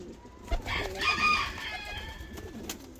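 Ottoman Hünkari pigeons, a red male and a yellow female, make soft cooing and calling sounds that rise in the middle and fade, with faint rustling around them.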